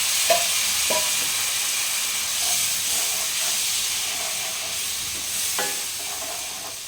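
A splash of water hits frying turmeric masala for spiced chickpeas, sending up a loud, steady steaming hiss close by, with a few brief clatters and crackles along the way.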